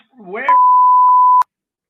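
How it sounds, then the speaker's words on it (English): One steady electronic beep, loud and level, sounding on a recorded phone call with a short spoken bit just before it and a click where it ends. "Oh, that beeping"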